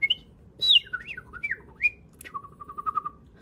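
A person whistles an imitation of a bird call, alone and fairly close: a few sliding, warbling phrases, then a quick run of short, even repeated notes near the end.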